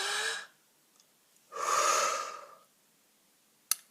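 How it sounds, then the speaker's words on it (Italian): A deep breath drawn in through the mouth and then let out, two soft airy rushes close up in quiet surroundings, followed by a couple of brief clicks. "Facciamo un bel respiro dalla bocca"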